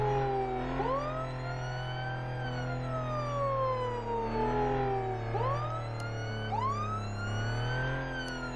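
Emergency vehicle siren from the video game Flashing Lights, a wailing tone that sweeps up and down repeatedly and loudly over a steady low engine drone, continuing throughout with brief clicks near the end.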